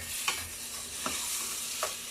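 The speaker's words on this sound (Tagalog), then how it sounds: "Haluin lang natin siya hanggang sa medyo lumambot ng konti." Chopped tomatoes being stirred in a frying pan for ginisang munggo, a Filipino mung bean stew, with a soft constant sizzle and three scraping strokes of the spoon spaced evenly apart.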